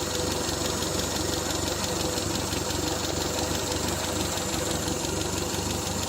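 A Triumph Spitfire engine that sat unused for about twelve years idles steadily while warming up, a continuous close mid-pitched rumble with a faint knocking texture and no talking.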